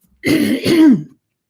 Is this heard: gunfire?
no